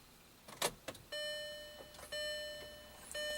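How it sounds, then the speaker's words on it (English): Relays clicking inside a 2004 VW Passat TDI with a BHW engine that runs badly, a few sharp clicks near the start followed by repeated electronic tone chimes, close and quiet. "Here's some relays clicking."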